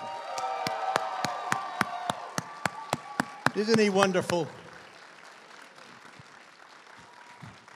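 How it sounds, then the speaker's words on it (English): Convention audience at a GalaxyCon Richmond 2020 Q&A clapping for Alan Oppenheimer: a run of steady, evenly spaced claps building to a brief burst of cheering with a voice speaking over it, then fading into quiet room noise. "please give him a huge round of applause"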